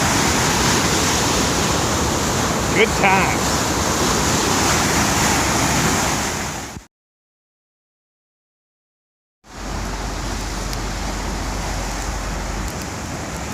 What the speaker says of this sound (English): I guess I'm going to listen to the sound of a roaring waterfall all night.